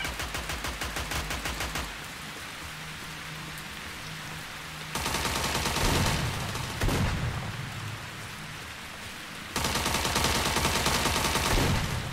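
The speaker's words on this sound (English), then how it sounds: "Gunshots." Gunfire in the STALKER-themed online shooter STALCRAFT near a barn, bursts of rapid automatic shots that come in loud waves and break off into brief lulls, with no talking.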